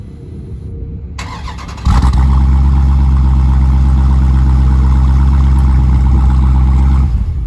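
A Jeep SRT SUV with a 6.4-liter V8 cranks briefly, then fires up loudly and settles into a steady, deep rumbling idle that carries on alone until the end.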